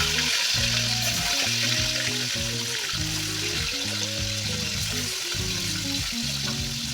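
Pieces of katla fish sizzling in hot white oil in a kadai, a steady crackling fry with clinks of stirring and turning throughout, close and fairly quiet with no talk.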